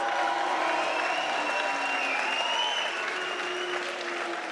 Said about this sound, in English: Give these 2 warriors another massive round of applause.